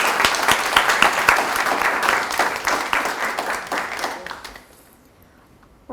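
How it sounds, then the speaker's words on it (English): Audience applause honoring recipients at a university alumni awards ceremony, many hands clapping in a lively, fairly close burst that thins out and fades into near silence near the end. "let's have another round of applause for our award recipients"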